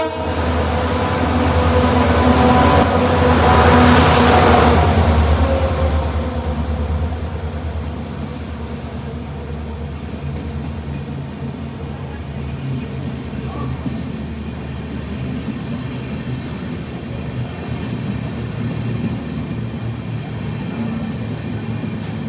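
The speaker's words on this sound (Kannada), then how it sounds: "ಇವಾಗ ನಮ್ಮ ಟ್ರೈನ್ ಬಂದೈತ್ರಿ ಈಗ ಪ್ಲ್ಯಾಟ್ಫಾರ್ಮ್ ನಂಬರ್ 3ಗೆ" A passenger train pulls into platform 3 on the Bengaluru–Mangaluru monsoon route through Shiradi Ghat. A loud, sustained horn blast comes early over a heavy rolling rumble, which settles into a steady, continuous drone of rail cars.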